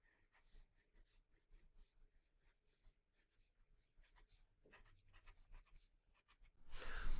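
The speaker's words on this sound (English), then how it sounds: "So I'm going to sketch those in just by sketching in some basic triangles." A pencil scratches lightly across paper in short, scattered strokes, sketching tall skinny triangles for pine trees, quiet and close, ending in a louder rustle.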